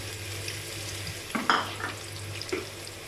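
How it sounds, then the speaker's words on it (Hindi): Medium-sized roughly chopped onion frying in about two serving spoons of oil in a pot, a soft sizzle under a low stove hum with a couple of brief stirring scrapes and clinks. "इसको हम लोग करेंगे थोड़ा सा फ्राई"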